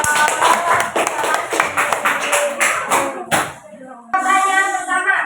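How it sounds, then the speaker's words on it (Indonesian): A small class group clapping together in an Indonesian teaching session, sharp rhythmic claps in quick patterned bursts, loud and close, ending in a final clap before a voice takes over. "Kasih tepuk tangannya dong."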